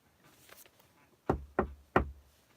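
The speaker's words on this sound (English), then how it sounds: "the Doctor took the lead and knocked on the door" Three firm knocks on a door in quick succession, close and distinct against a quiet background, preceded by faint soft shuffling.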